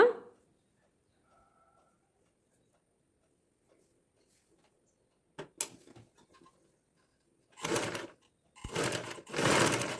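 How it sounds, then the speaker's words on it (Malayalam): A sewing machine stitches along a folded fabric edge for a neckline, quiet at first and then running in short, close bursts of whirring stitching toward the end. "ഈ ഒരു ഭാഗത്ത് മടക്കി സ്റ്റിച്ച് ചെയ്ത് കൊടുക്കണം ജസ്റ്റ് ഒന്ന് മടക്കിയിട്ട് സ്റ്റിച്ച് ചെയ്ത് കൊടുക്കുക"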